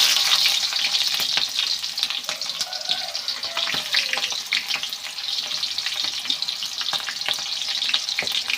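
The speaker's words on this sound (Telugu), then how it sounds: "బాగా వేగనివ్వాలి. గోల్డెన్ కలర్ వచ్చేవరకు వేయించుకోవాలి." Long-cut sliced onions fry in a pan toward golden, giving a steady loud sizzle with scattered stirring scrapes throughout, no voices.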